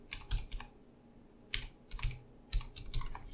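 Quiet, close keystrokes on a computer keyboard come in small irregular clusters of clicks separated by short pauses, with no voices.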